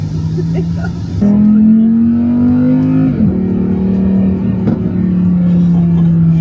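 A supercar engine drones at a steady pitch, then climbs slightly and settles, loud and close, as if heard from inside the vehicle.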